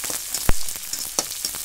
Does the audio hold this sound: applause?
no